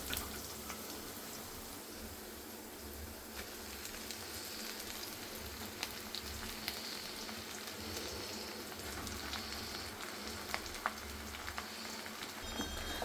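Amaranth leaves frying in a pan for thotakura fry, a steady close sizzle and crackle with occasional sharper pops, continuous and even throughout, no talking.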